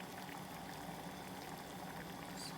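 Steady bubbling and hissing of water boiling, a continuous low rumble with soft fizzing, fairly faint and close, no voices.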